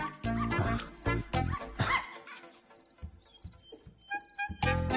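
A dog barks repeatedly up close in uneven bursts, with yips and whimpering between the louder barks.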